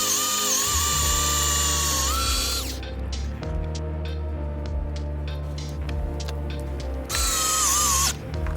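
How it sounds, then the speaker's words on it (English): A power drill bores holes for decking screws through a pallet-wood base into a retaining wall, with two loud, whining bursts at the start and end and quieter mechanical rattling between them. "so I'm going to drill some holes, and I have some decking screws that I'm going to just put straight through the base of the scarecrow"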